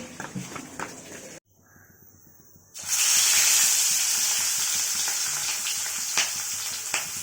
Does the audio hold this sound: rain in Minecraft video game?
no